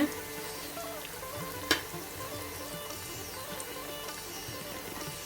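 Grated-coconut Manchurian balls fry in hot oil, giving a steady close sizzle with a single sharp clink partway through.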